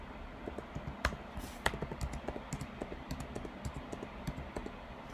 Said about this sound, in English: you type in each row individually, carefully to not make any mistakes.